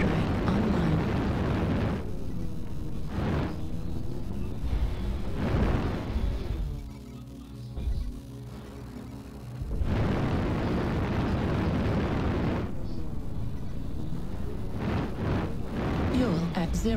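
Video game airstrike explosions boom in heavy rumbling bursts, loud and dense, with a brief lull midway before more blasts follow.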